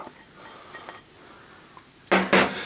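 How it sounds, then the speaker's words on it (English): Onions tumble into a pan to soften, with a few light clinks and taps of cookware, then two loud, close bursts of hissing sizzle near the end. "first off in with the onions, soften those up a bit"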